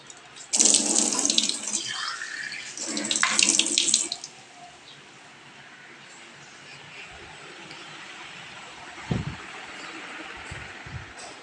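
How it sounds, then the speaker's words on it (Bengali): Water gushes loudly from a tap in two strong bursts for watering tulsi plants, then settles into a softer steady trickle and splashing, with a brief louder splash near the end. "আর এখন একটু গাছগুলোতে জল দিয়ে দেব।"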